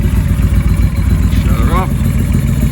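A motorcycle engine idling steadily right after an oil change, a low continuous rumble close by with a brief squeaky sound partway through.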